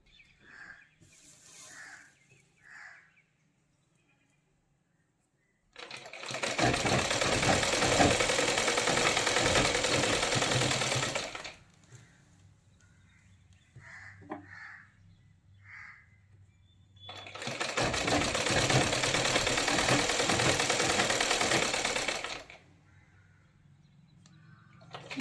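A sewing machine stitches a Rajputi kalidar lehenga in two loud, steady runs of about five seconds each, its rapid mechanical whirr filling the room, separated by quieter gaps with faint handling clicks and distant crow caws.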